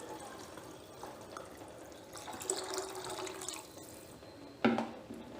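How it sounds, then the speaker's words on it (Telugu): Water is poured into a pot for pepper rasam, a steady close splashing and trickling stream that builds in the middle and ends with a sharper splash, with no talking. "వాటర్ కూడా యాడ్ చేసేసుకుందాం."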